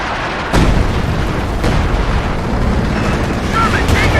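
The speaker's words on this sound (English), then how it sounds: "Carrying some artillery barrage inbound." An artillery barrage in the Company of Heroes 2 video game hits as loud, heavy booms: a strong blast onset, then sustained rumbling explosions with further impacts, with talk over the top.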